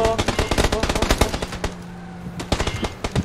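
Rapid bursts of automatic gunfire from the battle game PUBG, loud and close, with dense rattling volleys through the first half and then sparser single shots and short bursts.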